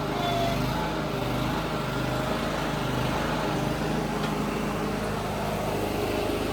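A Wacker Neuson SM60 engine runs at half throttle, a steady, loud mechanical drone that holds constant without pauses or voices.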